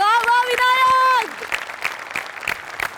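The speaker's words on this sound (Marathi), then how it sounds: "विनायक पुरुषोत्तमसाठी प्रचंड टाळ्या" Applause from a comedy show studio audience breaks out after a sung or sustained voice, a brief burst of clapping continuing steadily for a couple of seconds.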